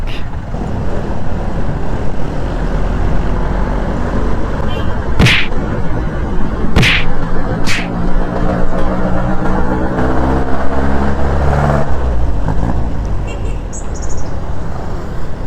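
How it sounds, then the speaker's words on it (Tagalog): Heavy city traffic in Muntinlupa, Manila, heard from a Suzuki Smash 115 motorcycle in motion: a constant loud roar of engines and wind, broken by a few sharp passing bursts. "Traffic. Too much traffic."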